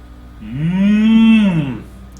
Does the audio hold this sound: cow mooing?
yes